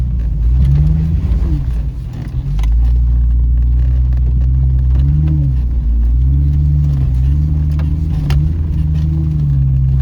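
An off-road vehicle on aired-down tires crawls over a rocky section, its engine a loud, close, low rumble that rises and falls in pitch as the throttle shifts, with scattered clunks and scrapes.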